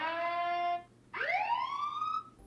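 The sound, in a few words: siren sound of SENS8 outdoor security camera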